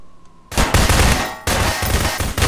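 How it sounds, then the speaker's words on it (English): Loud bursts of rapid gunfire in a prop hunt video game, two long automatic volleys separated by a brief break, close and sharp. "I heard a lot of gunfire near me."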